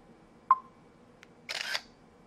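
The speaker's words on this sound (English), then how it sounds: "just press the shutter button again part way to take another picture" A Nokia 5800 XpressMusic phone camera fires a quiet electronic shutter: a short tone, a tiny click, then a brief bright burst of the capture sound, close and isolated against near silence.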